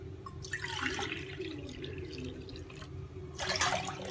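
Water is poured into half a liter of unboiled milk for tea, a close splashing trickle that rises and eases, then surges again near the end, with no talk.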